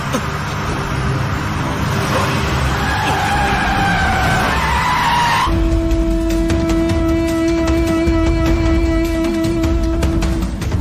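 Car tyres skid loudly on the road after a brake failure, a long broadband screech with sliding squeal tones that shifts into a sustained high whine, continuous and close for the whole stretch.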